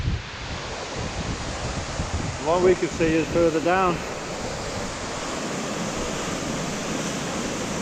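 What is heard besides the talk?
waterfall at Gordale Scar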